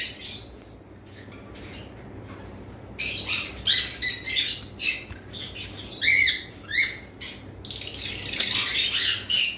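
A pair of caged lovebirds squawk and chirp in sharp, repeated bursts, loud and close, over a low steady background hum.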